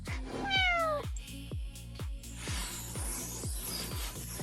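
A little black cat gives one clear, rising meow, close and moderately loud, over a faint repeating rhythmic thump and a soft rustling background.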